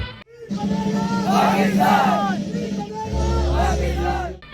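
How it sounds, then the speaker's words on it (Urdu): Crowd of adults and children chanting slogans together at a Kashmir solidarity rally: loud, sustained voices in rhythmic shouts with a dense crowd murmur underneath, continuing throughout. "بچوں نے بھی دل کھول کر کشمیر کی محبت میں نعرے لگائے۔"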